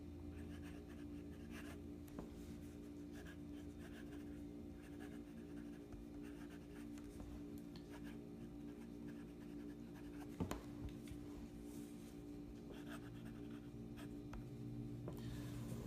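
A Visconti Van Gogh Vincent's Chair fountain pen scribbles on paper, a faint, continuous close scratching of the nib over a steady background hum, with one slightly louder stroke.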